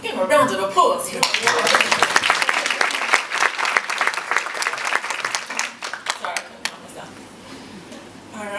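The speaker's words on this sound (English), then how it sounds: "Give him a round of applause here." An audience claps at a disability-inclusion arts panel, a dense burst of applause that swells early and then gradually thins and softens, with some talk mixed in underneath.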